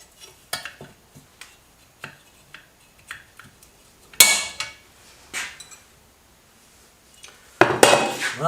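Metal tapping on a circlip being fitted to an Enfield 350 Bullet trials motorcycle: a series of light, sharp clinks at an irregular rhythm, close by, with two louder, harsher metallic bursts among them.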